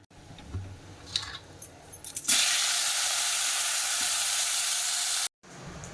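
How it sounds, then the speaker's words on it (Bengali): Salted, turmeric-coated okra slices hit hot oil in a pan and burst into a loud, steady sizzle that holds for about three seconds, then cuts off abruptly before a quieter tail. "ঢেঁড়স ভাজা করব, কেটে লবণ আর হলুদ মাখিয়ে দিয়েছি"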